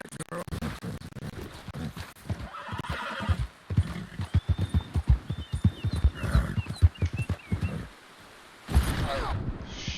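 Video game horse neighing and whinnying with rhythmic clip-clop hoofbeats, loud and close, the galloping stopping briefly near the end before resuming.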